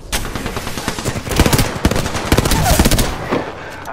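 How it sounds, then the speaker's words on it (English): Rapid bursts of automatic gunfire in the shooter Apex Legends, loud and close, sharp cracks rattling in clusters with short gaps between volleys. "Getting shot at."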